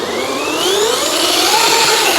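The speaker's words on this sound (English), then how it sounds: "I'm going to do the burnout just because it is so awesome" An RC car spins its wheels in a burnout on a big sand hill, the small electric motor giving off a loud, sustained high whine that rises in pitch, with no voices.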